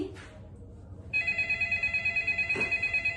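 A stage telephone rings during a theatre performance, a loud steady electronic trill that starts after a brief pause and keeps pulsing in even bursts, close and alone.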